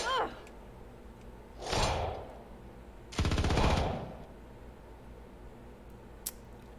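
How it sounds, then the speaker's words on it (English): Sniper rifle fire in the space strategy game Star Traders: Frontiers comes as two separate swelling, hissing bursts a second apart, followed by a brief sharp click, set against a quiet low hum. "let's do another sniper shot"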